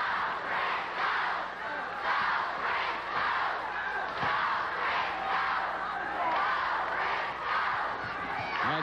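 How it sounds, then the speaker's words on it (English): A wrestling crowd at Dallas's Venable Sportatorium in 1986 chants in a steady rhythm, roughly one beat per second, loud and reverberant throughout, with a shout or thump cutting through midway. "And now the crowd here at the Venable Sportatorium picks up the chant."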